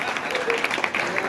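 Audience applause at a Burundian stand-up comedy show, a brief burst of clapping mixed with crowd noise and some overlapping voices.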